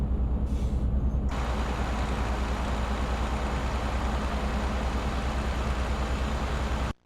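A Renault truck engine of nearly 2,000 horsepower rumbles in a loud, steady, low drone, starting with a brief hiss, running evenly for several seconds, then cutting off abruptly.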